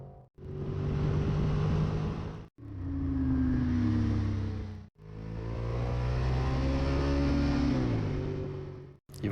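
Motorcycles roaring past on a race track during a track day, three long sustained engine passes with rising and falling pitch, loud and close, separated by brief gaps.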